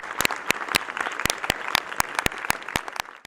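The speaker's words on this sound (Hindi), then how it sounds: "इनका भी जोरदार तालियों से आप स्वागत कीजिए" A seated audience applauds warmly to welcome a panelist at a school panel discussion on higher education, steady crowd clapping with a few sharp individual claps standing out, fading out at the end.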